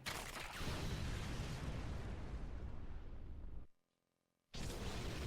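A loud explosion from the Naruto Shippuden anime: a heavy, rumbling blast that sustains for several seconds, cuts abruptly to near silence, then bursts back in.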